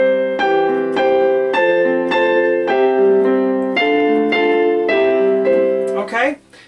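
Piano chords struck one after another at a steady, moderate pace, with the top right-hand melody note ringing out above the rest; each chord sustains clearly and close, then fades at the end.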